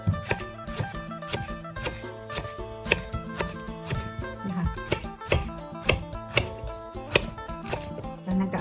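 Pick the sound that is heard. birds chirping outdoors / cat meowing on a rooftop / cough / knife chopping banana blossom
knife chopping banana blossom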